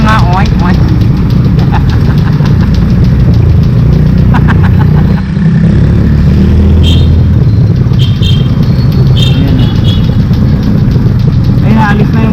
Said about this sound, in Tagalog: Ayan, alis na yung motor.